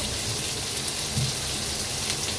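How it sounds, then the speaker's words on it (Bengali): A steady, dense hiss of onion frying in hot oil in a wok carries on evenly without pauses or speech. "এই কড়াতে আবারও তেল দিয়ে দিচ্ছি বেশ খানিকটা পেঁয়াজ।"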